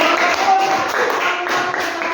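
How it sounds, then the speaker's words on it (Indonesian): A school class applauds a student in a classroom, a steady patter of many hands clapping together, moderately loud and fairly close, holding throughout. "kita kasih tepuk tangan untuk Mbak Sarah"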